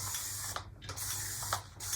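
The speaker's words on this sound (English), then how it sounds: "Kind of my refresh spray." A homemade hair refresh spray of leave-in conditioner, water and a little salt hisses out in a couple of quick, close pumps, with faint mechanical clicks of the trigger and low room hum.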